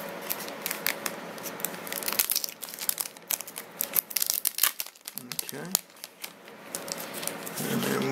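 Foam and plastic packaging around a USB-C microphone adapter crinkles and rustles up close, with sharp crackles and tearing-like bursts coming in irregular handfuls. Brief quieter gaps fall between them.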